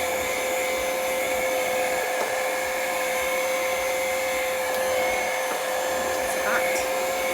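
A heat tool blows hot air to dry chalk paint on fall decor, a steady loud whirring hiss with a constant high whine running without a break.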